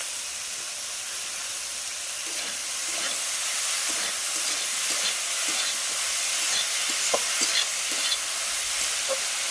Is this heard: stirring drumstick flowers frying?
yes